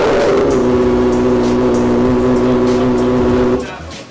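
A loud, steady Kawasaki ZX25R sport motorcycle engine drone holding a constant pitch for several seconds, then dropping away abruptly near the end.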